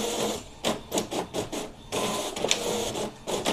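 An Epson L15160 inkjet printer prints pages, its mechanism clattering in a steady run of rhythmic feed and carriage bursts with short pauses, close and fairly loud, with no voices.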